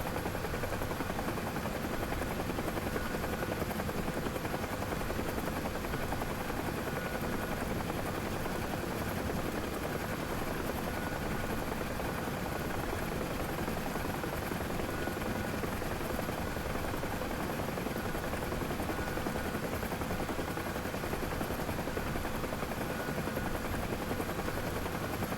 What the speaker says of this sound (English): This is UH1H. This is American Huey helicopter.